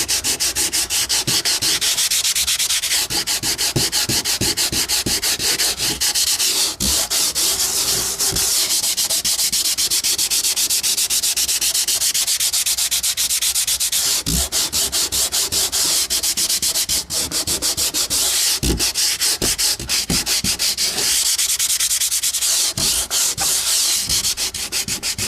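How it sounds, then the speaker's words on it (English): Steady sanding on a patched hole in a hollow wooden door, a continuous rough rubbing scratch with a fast back-and-forth texture, loud and close throughout with no talking. "Now the most important things to sand is the edges"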